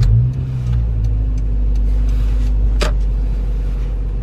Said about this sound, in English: And if I start the car.